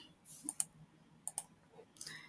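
A computer mouse clicking while working in the Hangul word processor, several quiet, sharp clicks in small pairs, close but faint against a near-silent room.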